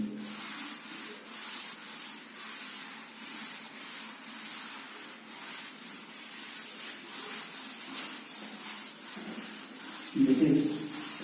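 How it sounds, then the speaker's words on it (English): Writing is rubbed out during a maths lesson on finding the HCF, producing a steady, rhythmic series of close, scratchy rubbing strokes that run continuously with no pauses and no talking. "I'm going to rub this again"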